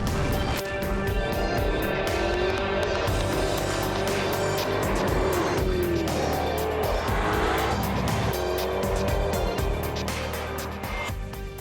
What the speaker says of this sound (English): it's a supercharged 5-litre V8 that packs quite a punch